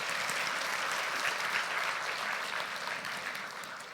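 A church congregation at an all-generations joint worship service applauds its young worship team: dense, sustained clapping from many hands that stays loud throughout and eases slightly toward the end.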